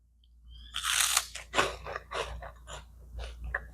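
Mexican Cheetos Puffs are crunched and chewed close to the mic in a quiet room, giving several loud crisp bites followed by softer crackling chews.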